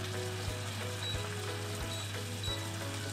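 Endives braise gently in a covered pan over low heat, giving a faint, steady simmering hiss with a low hum and occasional soft ticks.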